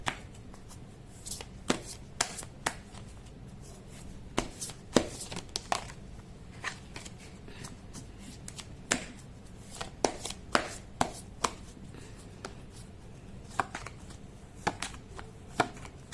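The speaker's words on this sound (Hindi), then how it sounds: "कर लेती हूँ कार्ड की शफलिंग।" Tarot cards being shuffled by hand during a Hindi reading, giving quiet repeated riffling and snapping clicks at an irregular rhythm over soft room hiss, close and fairly faint.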